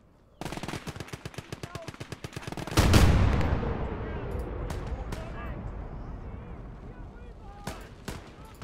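Machine gun cover fire in the WWII game Gates of Hell: a rapid, steady stream of loud gunshots, then a heavy blast followed by scattered further shots and distant fire, with voices heard under the battle.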